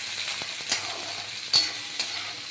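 Onion, tomato and capsicum fry in a pan for an oats breakfast, a soft continuous sizzle with several sharp ladle scrapes and taps as the vegetables are stirred.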